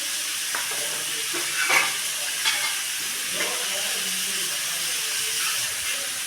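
Cumin, chana dal and fenugreek sizzle in hot oil in a pan, giving a loud, steady hiss with a few brief crackling pops as the spices are stirred.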